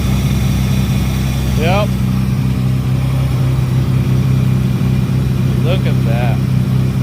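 J-series engine in a Honda Del Sol fitted with a Holley EFI manifold idling steadily and loudly up close, with a brief voice comment partway through.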